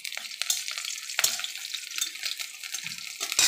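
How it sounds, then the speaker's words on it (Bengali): Peeled whole garlic cloves fry in hot oil alongside green chillies, giving a bright, crackling sizzle with sharp pops and brief stirring scrapes, close and without any talk. "আমার রসুন ভাজা হয়ে গেছে"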